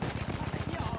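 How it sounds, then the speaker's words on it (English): Shotgun fire in the Battlefield 1 campaign amid a loud, dense wartime soundscape, with quick repeated bursts of gunfire close by. "We got a shotgun."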